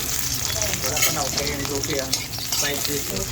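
Onion being sautéed in a pan as the base for sinigang, a loud continuous close sizzle with stirring scrapes, and faint talking underneath.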